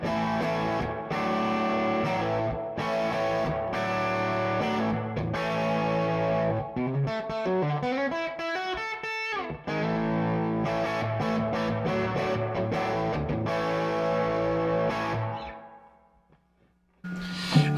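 Fender Telecaster through a Jackson Ampworks New Castle 30 head scaled down to 1/8 watt, a steady, compressed overdriven passage of chords and riffs with a quick run in the middle, fading out near the end.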